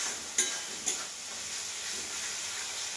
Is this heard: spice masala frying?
yes